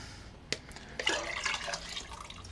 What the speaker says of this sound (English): So let's try and force a lot of the whey out.